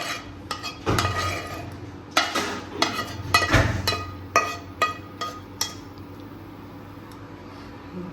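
A beaten egg is poured into a pan and stirred, with a run of clinks and scrapes of a utensil against metal over a faint sizzle, loud at first and thinning out toward the end.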